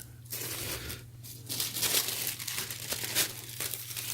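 Tissue paper crinkles and rustles while a black Palace Builder tee is unboxed, giving irregular close crackling bursts with short pauses and no talking.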